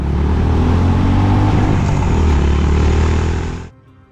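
Honda H'ness CB350 motorcycle with a long-stroke engine running steadily, a loud, continuous low thumping drone that holds level for about three and a half seconds and then cuts off abruptly into quiet.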